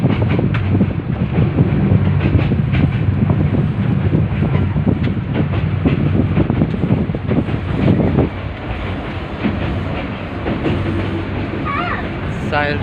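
A train rumbles steadily past a railway crossing, a loud, continuous low roar with wind buffeting the microphone and people talking nearby, easing slightly toward the end.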